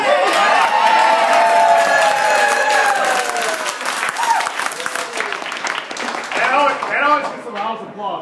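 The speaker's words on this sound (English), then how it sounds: "That always gets a round of applause" A crowd at a campaign speech for a Wisconsin lieutenant governor candidate bursts into loud applause with cheering and whoops. The clapping stays dense and steady for several seconds, then thins toward the end.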